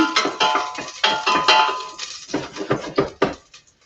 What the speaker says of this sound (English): I'm just going to move Biscuit's bowls out of the way.